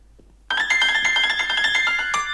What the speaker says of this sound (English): Second ringtone we've got coming in here.